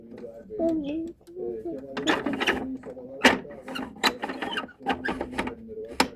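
A toy garbage truck's grinding mechanism clicks and ratchets in uneven bursts, close and clear, while people talk and play alongside it.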